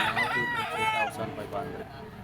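A young gamecock stag, a super brown red with green legs and a straight comb, crows once close by at a Lipa, Batangas farm, with faint talking in the background.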